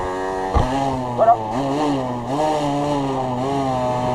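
A motorcycle engine revs during a wheelie, a buzzing, harmonic-rich drone rising and falling in pitch with a couple of sharp throttle blips, close and loud, with a brief spoken word over it.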